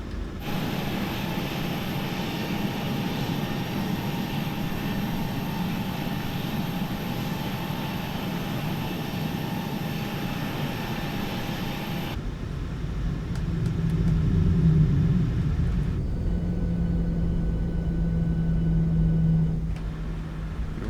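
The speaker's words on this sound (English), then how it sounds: "Quite a bit of thrust by the sounds of it." Boeing 737 engines in Microsoft Flight Simulator spool up for taxi, a steady loud jet roar and hum that drops suddenly partway through, then a lower engine rumble with a brief swell continues to the end.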